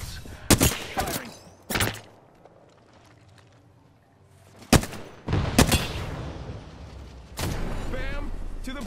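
Gunfire in Apex Legends: several loud, sharp shots in separate bursts, some doubled, with quiet pauses between and a final sustained volley, alongside occasional game sounds.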